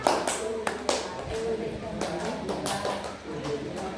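A run of four light, close hand claps counted out in a numeracy lesson exercise, with speech carrying on over and after the claps.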